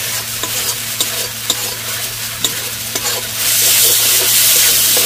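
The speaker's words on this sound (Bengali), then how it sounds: "এইভাবে নাড়িয়ে নাড়িয়ে কিছুক্ষণ মশলাটা কষিয়ে নিতে হবে।" Spice paste for aloo paneer curry fries loudly in a pan after water is added. Spoon strokes tap and scrape at a steady rhythm, then the sizzle swells into a louder, dense hiss.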